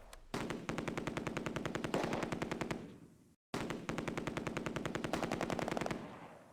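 Sustained machine-gun fire in the video game Close Combat: A Bridge Too Far, set at Oosterbeek North during Operation Market Garden: two long, loud bursts of rapid rhythmic shots, broken by a short gap.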